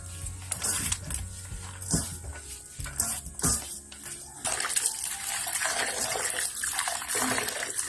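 Sliced banana blossom is washed by hand in water, salted beforehand to remove its astringency. Close splashing and sloshing alternate with knocks of a bowl, turning into continuous running, rushing water.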